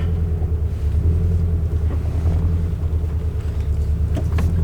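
Car fitted with a GReddy EVOlution GT exhaust, a loud deep rumble heard from inside as it idles and begins pulling away, steady and throaty with no talking.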